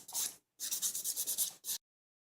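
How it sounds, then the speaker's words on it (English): Acrylic nail being filed with a 150 grit nail file along the smile line, giving bursts of quick, close, rhythmic scratchy strokes with short pauses between them. "I'm going in with our 150 file from Entity, and I'm just doing the smile line area right now"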